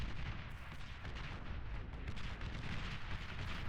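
Artillery in the Beyond All Reason real-time strategy game pounds steadily, a dense, faint rumble of overlapping booms and blasts continuing without pause.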